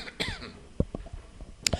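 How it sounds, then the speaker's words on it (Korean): A teacher in a classroom gives a few short, close coughs and throat-clearing sounds in under two seconds, with no talking. "제가 기침 온다고 여러분들 걱정하지 마세요."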